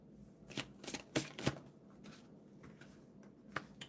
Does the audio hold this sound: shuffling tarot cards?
yes